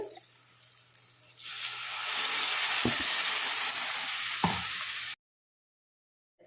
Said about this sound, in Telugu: ఇప్పుడు కొంచెం వాటర్ వేసేస్తున్నానండి